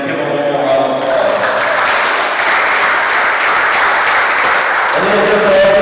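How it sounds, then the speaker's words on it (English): Gym crowd at a high school boys basketball game applauds senior team managers, giving a loud, dense, sustained burst of clapping and cheering that fills the space, with a voice over a loudspeaker at the start and end. "Let's give them one more round of applause."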